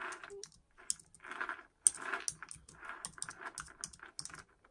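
Slow one-handed typing on a computer keyboard, close and fairly quiet, with irregular clusters of key clicks separated by short pauses and no speech.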